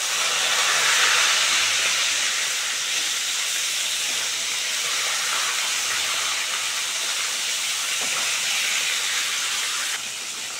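Silver carp pieces fry in hot oil, giving a steady close sizzling hiss that holds for the whole stretch and eases slightly near the end, with no talking.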